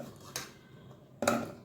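Cut potato pieces for cheese balls dropped into a pressure cooker, two distinct clattering bursts a second apart, close and moderately loud against a quiet kitchen background.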